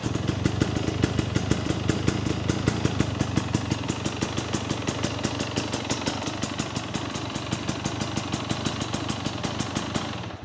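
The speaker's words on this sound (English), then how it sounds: "That's the exhaust, man." A 2024 Husqvarna TE250 TBI with a new FMF Turbine Core exhaust runs in a garage, its loud, close, crackling two-stroke beat pulsing rapidly and evenly with slight rises in pace, then cutting off at the end.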